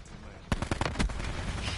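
Auger DMR rifle shots in Black Ops 4: a quick burst of several sharp, punchy reports in fast succession over a steady game background bed.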